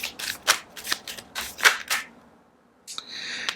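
Tarot cards are shuffled by hand close up in a quick series of crisp riffling flutters, followed by a short pause and a lighter final shuffle.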